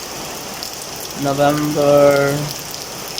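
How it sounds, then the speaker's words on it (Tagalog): Heavy rain pours steadily in Bontoc, Hindang, Leyte, Philippines, a dense continuous hiss throughout, with a voice speaking briefly over it midway. "now experiencing heavy rain here in Bontoc, Hindang Leyte in Leyte, Philippines now"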